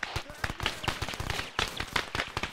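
Rapid .303 rifle fire rattles through a training exercise, the sharp cracks dense and irregular across the whole moment. Several shooters fire at once at close range, and voices are faintly audible beneath the shots.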